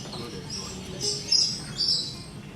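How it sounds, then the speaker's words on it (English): Rainbow lorikeet calls: a few short, shrill, high-pitched screeches and chirps in quick succession, fairly near, with a soft hiss underneath. "this is the sound of the rainbow lorikeet"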